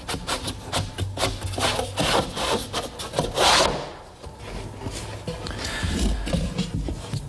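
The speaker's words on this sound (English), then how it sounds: "The quarter-inch plywood bottom slips into some grooves that I milled earlier." A quarter-inch plywood bottom panel slides into milled grooves in a wooden cabinet, giving a close, steady wooden rubbing and scraping with a louder scrape partway through, then softer sliding friction.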